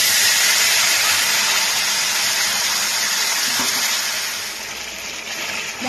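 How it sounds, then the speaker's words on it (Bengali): Ground spice paste dropped into hot tempering oil for an aloo paneer curry sizzles steadily and loudly up close, a dense continuous hiss that eases slightly toward the end. "ফোড়নটা গরম হয়ে গেছে। আমি আবার এর মধ্যে বেটে রাখা মশলাগুলোকে দিয়ে দিলাম।"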